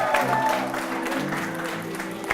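An audience at a live leadership presentation in Miami applauds in a dense, steady clatter of many clapping hands. A voice speaks over the applause, and the sound stays fairly even with a sharp peak near the end.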